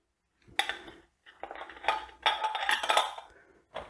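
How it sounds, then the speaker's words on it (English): A metal lid clinks and clatters onto a glass jar of hot beetroot and pear chutney in a few close, bright bursts with short pauses between them. "Grab a lid and pop it on."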